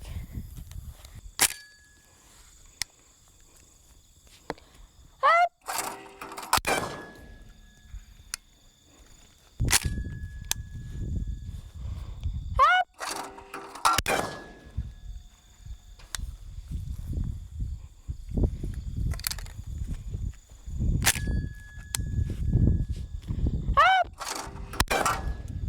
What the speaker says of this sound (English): let's go shoot some straightaways with my semi-automatic